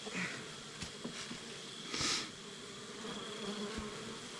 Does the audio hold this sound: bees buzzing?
yes